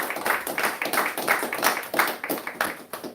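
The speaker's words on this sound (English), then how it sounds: "Let's give our beloved brother another round of applause" Applause from a congregation at a temple service, a steady patter of many hands clapping that stays fairly even and moderately loud throughout, with no voices over it.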